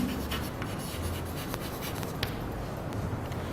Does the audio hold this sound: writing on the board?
yes